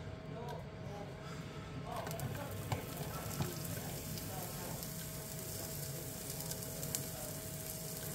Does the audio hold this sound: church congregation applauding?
no